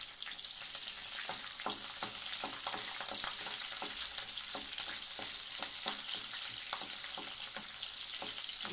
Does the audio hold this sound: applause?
no